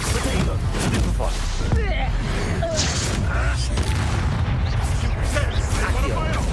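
Spells cast in Hogwarts Legacy combat make booming impacts, whooshes and magical bursts in rapid succession, loud and dense, with speech throughout.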